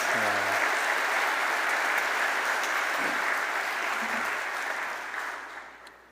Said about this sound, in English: a round of applause for an excellent job of reading all of those names